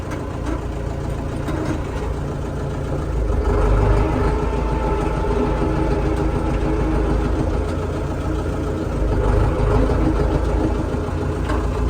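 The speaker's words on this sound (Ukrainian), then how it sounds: "Так, реверс включаємо і пробуємо проїхати." A new KATA KE454 tractor's engine runs steadily while the tractor drives in reverse, a close, low diesel rumble with a couple of gentle swells in power.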